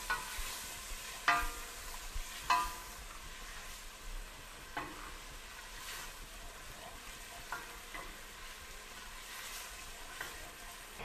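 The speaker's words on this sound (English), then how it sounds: "we're going to saute until translucent" Onions sauté with white pepper and nutmeg in a pot, a soft steady sizzle with occasional stirring scrapes and clicks, fairly quiet and close, without speech.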